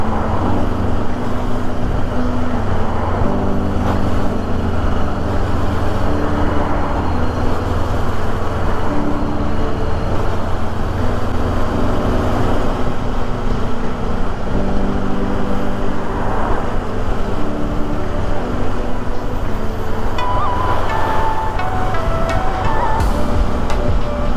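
Steady road traffic and wind rush heard while riding a motorcycle near the coast in Japan, forming a loud, constant roar with engine hum underneath.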